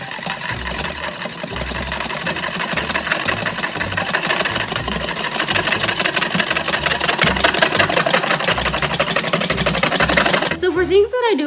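Dalgona coffee mixture being whisked by hand, a steady fast rhythmic clatter of the whisk running continuously and close for about ten seconds before stopping abruptly near the end.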